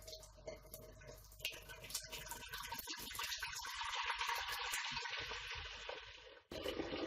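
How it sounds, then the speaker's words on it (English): Homebrew wort gushes quickly out through a valve into a tube, a steady rushing pour of liquid with small clicks and drips before it, ending abruptly. "That comes out a lot quicker from this valve than it did from the other hose barb"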